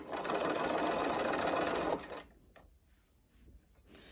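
A sewing machine runs close and steady for about two seconds, stitching dress fabric, then stops, leaving a few quiet handling taps.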